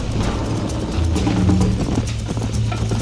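Horse hooves gallop in Red Dead Redemption, a steady rapid clip-clop running continuously under a dense game soundscape with a low rumbling background.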